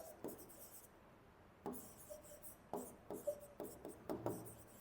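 Marker or chalk scraping on a board during a physics lecture on capacitors, heard as several quiet, scratchy bursts separated by pauses, with no talking.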